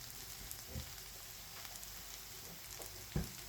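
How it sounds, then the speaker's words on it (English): Sausages with sauteed vegetables and ketchup sizzle quietly in a pot, a soft steady frying hiss with a couple of brief knocks as the food is stirred. "The sausages with the sauteed veggie and the ketchup."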